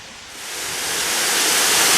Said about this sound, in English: One of the great features of Bigwood State Park is this great waterfall here coming off of Prairie Creek.